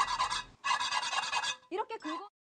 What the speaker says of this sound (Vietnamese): cái muỗng sắt thông thường, thế nhưng tôi sẽ dùng nó để gõ và cạo vào mặt chảo này